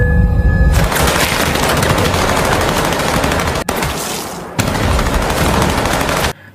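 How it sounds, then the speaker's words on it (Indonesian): A film shootout on a staircase between two groups, dense continuous automatic gunfire and overlapping shots, very loud and sustained, with brief dips before the barrage resumes and cuts off. "Di tengah tangga terjadi adu tembakan antara dua kubu."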